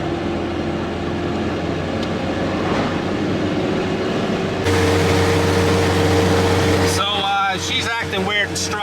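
A Ford Ranger pickup struggling uphill in third gear, a continuous low engine drone with steady road and wind noise that rises and roughens midway, and voices talking over it near the end.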